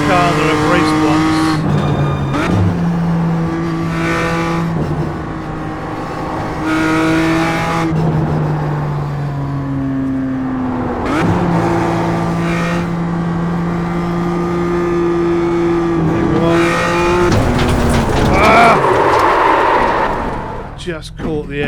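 A race car in iRacing howls loudly through repeated gear changes, rising revs, braking and downshifts, with someone talking over the engine at times.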